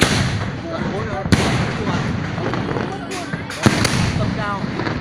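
A New Year fireworks battery of mortar tubes fires high aerial shells outdoors. Two sharp, loud bangs ring out a few seconds apart over a constant crackling din, with people chatting in the background.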